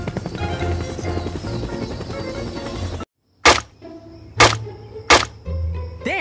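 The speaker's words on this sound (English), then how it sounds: "We are flying in a helicopter." An animated helicopter in a Minecraft-style game whirs with a dense buzzing rotor drone, then cuts abruptly to silence followed by several sharp cracking hits and a rising whistle.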